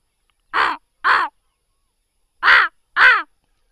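A voices a deeper, throatier crow caw imitation: four loud rasping calls in two close pairs separated by a pause, nothing else audible around them.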